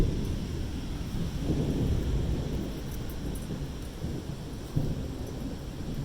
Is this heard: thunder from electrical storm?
yes